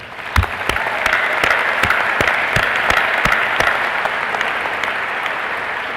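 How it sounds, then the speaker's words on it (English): Audience at a university commencement breaking into a large, sustained round of applause, with a few louder nearby claps standing out from the broad, even roar of the crowd. "they deserve your praise, and I think they also deserve a big round of applause"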